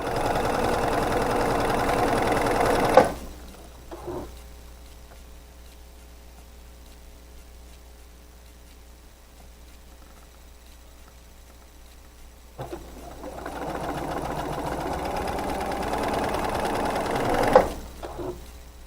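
A sewing machine runs at a fast, steady whir while stitching seams on a quilt star block made from half-square triangles, stops for a long quiet stretch, then starts stitching again.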